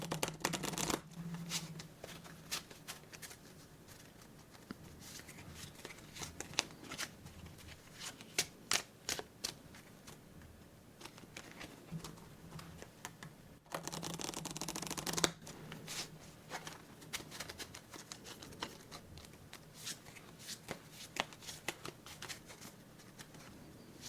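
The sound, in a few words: playing cards being handled and shuffled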